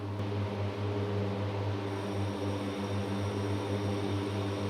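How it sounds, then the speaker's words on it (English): Smoke exhaust fans running during a building smoke purge system test, a steady loud mechanical drone with a strong low hum and constant airflow rush, unchanging and without voices. "Smoke exhaust fans should automatically start."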